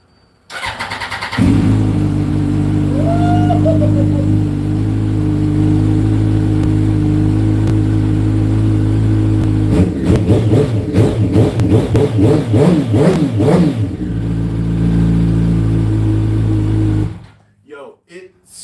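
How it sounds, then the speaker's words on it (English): A Yamaha R1 motorcycle engine starts up with a loud close roar, settles into a steady idle, then is revved in a series of sharp blips before shutting off. "listen to this bike when it fires up"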